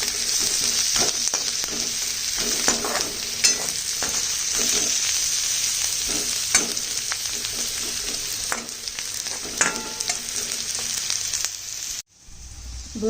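Chinese fried rice sizzling steadily in a hot pan, with a continuous close frying hiss broken by frequent scraping stir strokes, then falling quiet near the end.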